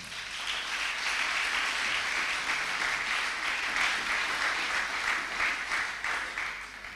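A church congregation applauds and cheers for several seconds, a steady, loud wash of clapping and voices filling the room without a break and fading slightly at the end.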